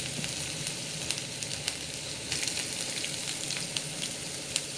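Chopped ginger, garlic and green chilli sizzle and fry in hot oil in a pan, a steady close crackle with occasional sharper pops and light stirring, and no voices.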